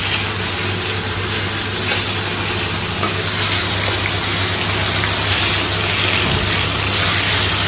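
Potatoes and chopped tomato fry in a pan with a steady, loud broadband sizzle that runs without a break, with faint stirring scrapes and a low hum beneath. No one speaks.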